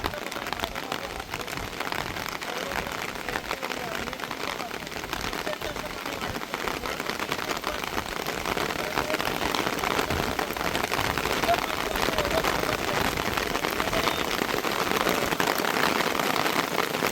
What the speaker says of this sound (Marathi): पाऊस झाला झाला